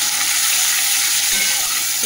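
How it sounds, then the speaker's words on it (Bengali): Chopped onion fries in hot oil with cumin seeds and bay leaf, giving a loud, steady, close-up sizzle that runs unbroken throughout. "পেঁয়াজটা ভাজা হোক, তারপরে মশলাগুলো দেবো।"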